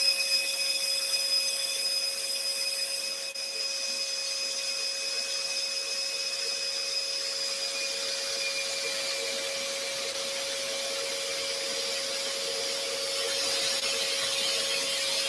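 A scroll saw cuts a wooden shelf bracket with a steady, even whine and buzz of the blade that carries on without a break from start to finish, close up and with no talking.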